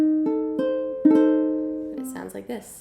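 Diminished chord built up note by note, the tones entering one after another and ringing together in a sustained, slowly fading blend, before a voice starts talking over the decay.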